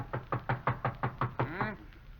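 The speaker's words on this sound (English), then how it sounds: "Knock on the door for me, will you?" Knocks on a door as a radio drama effect, about eight sharp, evenly spaced raps close up, ending with a brief creak or rattle.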